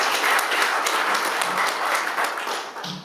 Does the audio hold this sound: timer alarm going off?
no